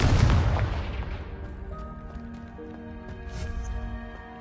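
The Confringo explosive spell goes off in Hogwarts Legacy as a single heavy boom at the start. Its low rumble decays over several seconds, while faint magical tones and sparkles ring out in the tail.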